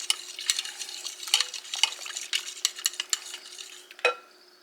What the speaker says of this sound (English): I've got a dough whisk here that I'm just gonna mix it up